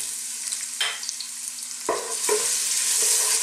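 Garlic and ginger frying in hot oil in a cooking pot, a steady bright sizzle close by, broken by a few sharp stirring scrapes and flare-ups, with no voices.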